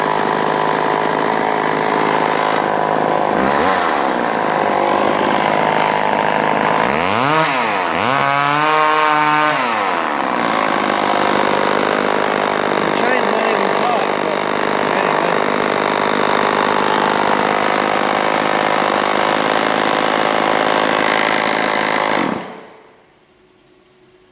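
Polan Micro XXV chainsaw engine running loud and steady at high revs, with several swooping rev changes as the throttle is worked, then held until it abruptly cuts off near the end.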